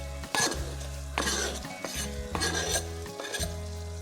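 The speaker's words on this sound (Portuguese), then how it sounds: "vou mexer. Agora vou deixar refogar mais ou menos uns 5 minutos." Tomato pulp being stirred into sautéing tuna empanada filling in a pan, with steady sizzling frying and several scraping, clinking strokes of a utensil against the pan, close and alone.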